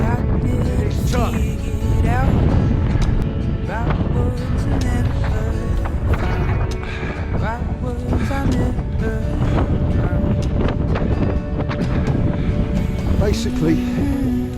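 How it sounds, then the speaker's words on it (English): Strong wind buffets the microphone continuously at a mountain pass around 2,500 metres on the Tour du Mont Blanc, loud and gusty, while people talk over it. "It's windy. It's tough."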